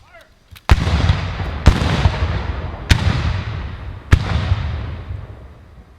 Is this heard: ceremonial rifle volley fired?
yes